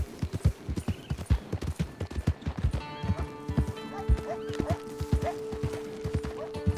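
Horse hooves clip-clop at a steady walking rhythm in the Red Dead Online video game, close and distinct, with a whinny partway through and a sustained tonal background sound.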